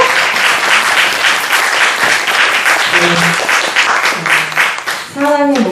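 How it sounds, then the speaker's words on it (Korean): Audience applause fills a church house concert, loud and steady clapping from a close crowd that runs throughout, with a short sung or spoken voice rising near the end. "박수로 보내드리겠습니다"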